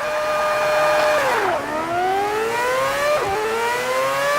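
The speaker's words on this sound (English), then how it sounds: "this car here is a V8, so it's going to sound much better, it's going to scream" A V8 race car engine in the Forza 7 driving game screams loud and close, climbing through the revs, dropping sharply on two upshifts and climbing again, with no talk over it.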